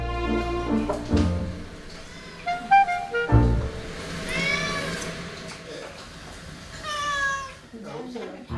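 A cat meows several times, drawn-out and whiny, at an outdoor rural church gathering over a meal, with people talking throughout and low background rumble.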